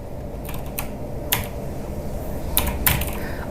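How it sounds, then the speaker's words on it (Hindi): Keys on a computer keyboard are tapped as a handful of sharp, irregular clicks spread over a few seconds. They sound close and distinct against a quiet room background, with no talking. "अब सपोज कीजिए यहाँ पर आप टाइप कर रहे हैं"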